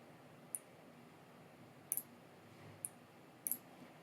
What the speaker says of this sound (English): You click on proceed to invoice.